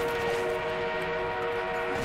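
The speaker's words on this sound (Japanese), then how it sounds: "敵の装甲列車が移動を開始。" An enemy armored train rolls along in the World War I shooter Battlefield 1, giving off a steady mechanical rumble with a sustained whistle-like tone held throughout.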